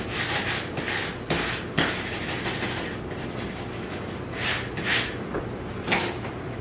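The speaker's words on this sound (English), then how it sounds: "I'm going to do a really good squeegee on it" A squeegee is rubbed repeatedly over a vinyl wall sticker to press it onto its backing. The strokes make soft scraping, rubbing swipes in an irregular rhythm. The sound is close and fairly quiet, with no talking.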